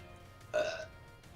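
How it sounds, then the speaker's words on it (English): A single short belch rises abruptly from a quiet background, close and clear, lasting about a third of a second. "Wouldn't be a stream with the classic belch and all."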